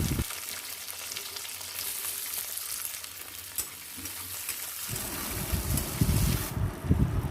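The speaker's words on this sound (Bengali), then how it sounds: "একে একে আদা রসুন এবং পেঁয়াজের টুকরোগুলো দিয়ে দেবো।" Whole spices, ginger, garlic and onion pieces hit hot oil, giving a steady close hiss that jumps to a louder, fuller sizzle partway through as more pieces go in.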